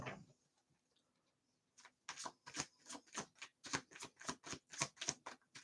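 A deck of tarot cards being shuffled close by, with rapid rhythmic riffling clicks after a quiet pause, fairly faint and with no talk.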